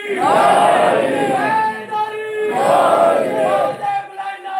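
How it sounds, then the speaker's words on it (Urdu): A large mourning gathering at a chehlum majlis for Imam Husain chants slogans in loud unison, two long surging shouts separated by a short pause, voices massed and close. "بولتے بلند نعرے"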